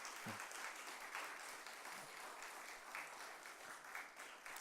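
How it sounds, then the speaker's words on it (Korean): A congregation at a Wednesday prayer service in church applauds in a soft, steady wash of many hands clapping, fairly distant and even throughout with no voices over it. "우리 큰 박수로 한번 격려해 주시면 감사하겠습니다."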